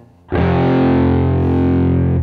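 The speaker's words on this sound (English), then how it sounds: "Let me switch to kind of distortion. we just follow the chords with power chords." One heavily distorted electric guitar power chord in a rock ballad is struck and left ringing loud and sustained, buzzing steadily before being cut off.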